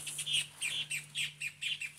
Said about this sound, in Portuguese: Vocês estão ouvindo esse passarinho?